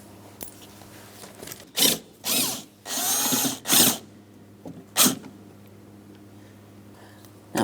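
A hand ratchet loosens the 10mm mounting nuts inside a Cadillac CTS door, heard as several short, close bursts of rapid clicking separated by quiet gaps.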